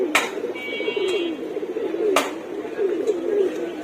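Pigeons released from a loft in the morning coo steadily close by, with two sharp wing claps as birds take off.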